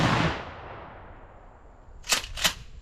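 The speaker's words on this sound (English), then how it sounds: "This will be your rifled slug." Shotgun firing rifled slugs, two sharp, distant-sounding reports about a third of a second apart, following the fading tail of an earlier blast outdoors.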